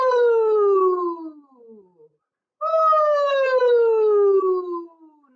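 A singing voice glides downward on a sustained 'ooh', imitating a siren as a vocal warm-up, twice in succession with a short silent gap between the two clear, close slides.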